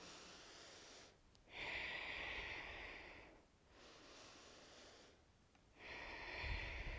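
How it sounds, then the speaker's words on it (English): Slow yoga breaths during a legs and glutes flow: three long, airy exhales and inhales in a steady rhythm, close and clear, separated by brief quiet pauses, with no talking. "breathe with me."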